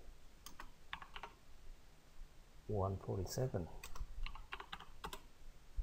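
Rapid keystrokes clatter on a computer keyboard in short bursts, close and crisp, while someone speaks briefly in between.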